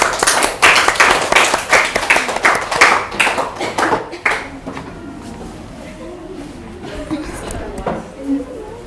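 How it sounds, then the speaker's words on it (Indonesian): A classroom audience claps after a group presentation, brisk rapid clapping for about four seconds that quickly fades, followed by quieter room noise with faint voices. "tepuk tangan."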